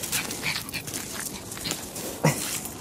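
Three dogs whimper and yip close by, with one sharper bark standing out near the end of the short stretch, and no one speaks.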